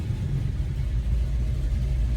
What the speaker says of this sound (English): As you can hear, the idle didn't go down.